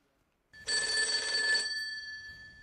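An electronic telephone bell rings once in a bright sustained trill that starts abruptly after a moment of silence and fades with a short tail, heard alone in an indoor comedy sketch scene.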